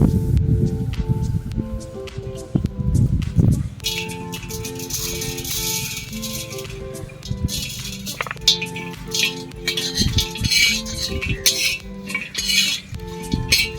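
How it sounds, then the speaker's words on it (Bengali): Whole cinnamon, nutmeg and pepper rattle and clink in a dry pan as they are stirred and roasted, a busy metallic clatter that comes in bursts and stays close and fairly loud throughout. "গোটা মশলাগুলো এবার শুকনো খোলায় ভেজে নেব।"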